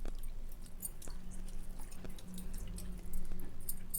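Soaked tamarind juice is strained by hand into Andhra-style pepper rasam, producing soft, scattered wet drips and splashes in a quiet kitchen.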